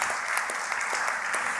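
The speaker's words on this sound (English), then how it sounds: "Please give her a round of applause." An audience claps at a judicial conference closing ceremony, a dense, sustained burst of applause from many hands, even and lively throughout, with no talking over it.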